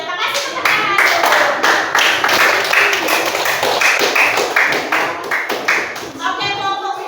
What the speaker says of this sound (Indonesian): Kasih tepuk tangan dulu